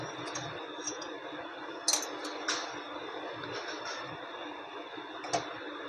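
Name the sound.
spooning mango modak filling into a dough cup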